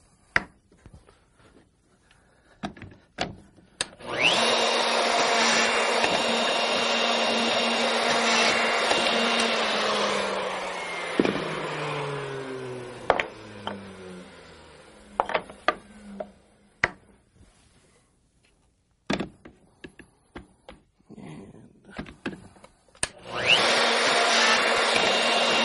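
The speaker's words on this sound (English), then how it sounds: "I'm going to go ahead and finish drilling all these holes here now" A power drill bores holes in wood, whining loudly for about six seconds before winding down, followed by scattered knocks and clicks, then spinning up again at the end.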